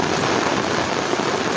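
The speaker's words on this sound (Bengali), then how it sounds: "বৃষ্টি, অনেক বৃষ্টি হচ্ছে।" Heavy rain drums on an umbrella in a dense, continuous, close hiss that stays loud and even throughout.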